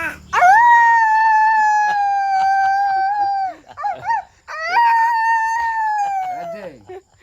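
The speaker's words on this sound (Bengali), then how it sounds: "ছোট কুত্তাটা দেখি, এটা ছোট কুত্তা না?" Dogs howl long and loud at close range, two drawn-out wailing calls with a few short yelps and whimpers between them.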